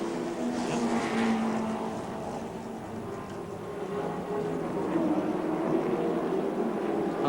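Touring cars race around Adelaide International Raceway in the 1984 Australian Touring Car Championship, with engines droning and rising and falling at middle distance, a lapped car among them.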